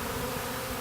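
Honeybees buzzing steadily as they hover around a newly installed hive, a dense, even drone with no pauses throughout.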